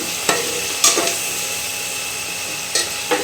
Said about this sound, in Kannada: ಮೆಂತ್ಯ ಸೊಪ್ಪು ಪುದೀನ ಸೊಪ್ಪನ್ನ ಹಾಕಿದ್ದೀವಿ ಅದು ಚೆನ್ನಾಗಿ ಘಮ ಘಮ ಅಂತ ಫ್ಲೇವರ್ ಬರಬೇಕು ಅಲ್ಲಿ ತನಕ ಸ್ವಲ್ಪ ನೀಟಾಗಿ ಫ್ರೈನ ಮಾಡ್ಕೊಳ್ಳೋಣ